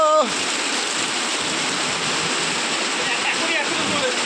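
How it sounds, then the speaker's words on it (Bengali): Floodwater rushing into a home gives a steady, dense wash of flowing water throughout, loud and close, with a brief voice at the very start. "এত বন্যা হয়েছে যে জল একবারে ঢুকে গেছে গো"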